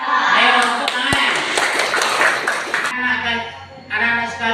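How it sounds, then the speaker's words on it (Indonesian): Young children clap their hands together in a brief burst of scattered, overlapping claps, heard under an adult's voice and a bright musical backing. "Ayo, tepuk tangan"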